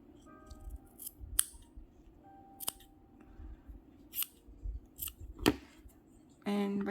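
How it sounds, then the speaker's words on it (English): Scissors cutting the corners off a fabric journal page, a few crisp snips spaced a second or so apart, close and quiet, with some soft handling noise in between. "So I'm going to cut all the 4 corners."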